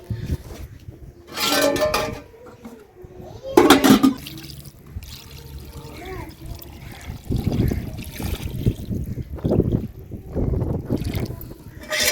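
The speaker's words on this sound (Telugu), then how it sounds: "ఇప్పుడైతే మాత్రానికి కడుగుదామండి కూరని" Cut village-style meat is washed by hand in water, with bursts of splashing and sloshing separated by quieter gaps and a brief squeaky rub, close by.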